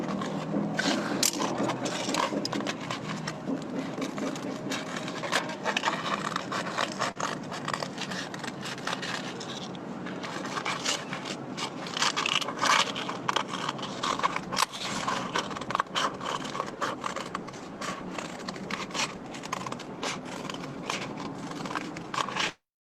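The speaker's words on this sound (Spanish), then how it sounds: "Vamos a cortar nuestra lija." Scissors cutting through a sheet of sandpaper, a continuous gritty rasping and scraping with rapid crunching snips, close and steady, with no talk.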